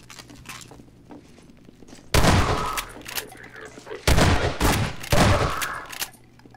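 Shotgun blasts in Half-Life 2, fired in a hallway fight against machines and shotgunners: three sharp, heavy close bursts with ringing tails, separated by quieter stretches of background hum.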